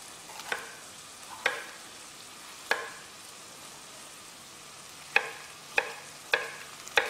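Green pepper cooking in a pan for a soup, a soft steady sizzle broken by sharp scraping stirs that recur every second or so, fairly close and with no talking.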